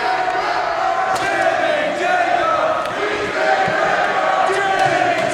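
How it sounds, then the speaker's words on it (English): An indie wrestling crowd at an IWA Mid-South show in 2008 chants Jimmy Jacobs's name, a dense, loud, continuous roar of many voices filling the arena. "They're chanting his name, whether he likes it or not."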